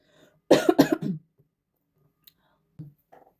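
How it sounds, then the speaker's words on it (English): A single sharp cough bursts out close by, followed by a couple of faint clicks and soft throat sounds in otherwise quiet surroundings. "I had to pause and cough a little bit."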